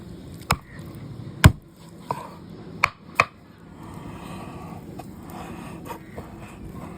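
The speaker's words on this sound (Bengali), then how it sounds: "চিকেনটা কাটা হয়ে গেছে" Raw chicken is chopped for chicken pakora with a handful of sharp knife strikes against a board, spaced irregularly in the first half, followed by quieter kitchen handling.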